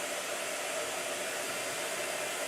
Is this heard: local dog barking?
no